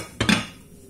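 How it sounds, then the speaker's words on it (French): A pan of rice vermicelli with tuna gets one brief clatter as the lid or utensil knocks the cookware, a short close metallic clink followed by quiet. "Et je vais mélanger et je vais couvrir et je vais laisser cuire aussi 5 minutes."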